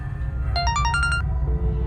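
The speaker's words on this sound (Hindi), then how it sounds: "पिता का फोन आ गया" A phone rings with a short burst of bright electronic ringtone tones in quick succession, rising and falling in pitch, over a low background rumble, followed by a softer sustained tone.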